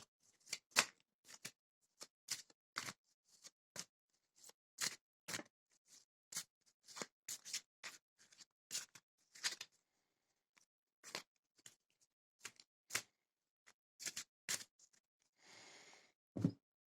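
A deck of Lenormand cards shuffled by hand, a long run of sharp, crisp riffling snaps with irregular pauses between them, close and quiet, ending in a short ruffling burst.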